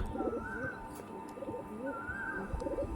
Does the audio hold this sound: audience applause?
no